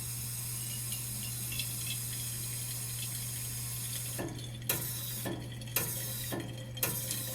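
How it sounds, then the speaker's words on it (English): A Bunn CWTF Twin commercial coffee brewer being programmed gives three distinct clicks about a second apart, each briefly cutting through its steady hum and faint water rush. "in about 8 seconds you'll hear 3 distinct clicks"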